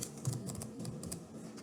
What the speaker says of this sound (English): I'll just type Holly's in